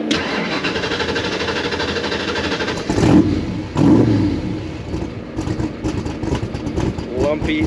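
A 1965 Shelby Cobra 427 replica by Superformance, 427-cubic-inch V8 making 585 horsepower, warmed up and idling lumpy: a close, loud, uneven rumble with two sharp throttle blips in the middle before settling back to a choppy idle.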